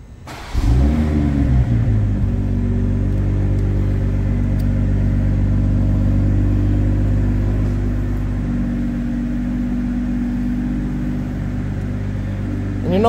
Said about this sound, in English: why don't we go start it up and hear some exhaust sounds and whatnot.